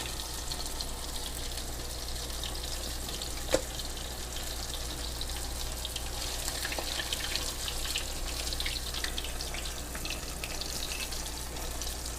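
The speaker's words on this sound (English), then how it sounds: "listen to them sizzle" Soft, steady sizzling of crappie fish frying in hot grease, a constant hiss with one brief pop, close by and alone.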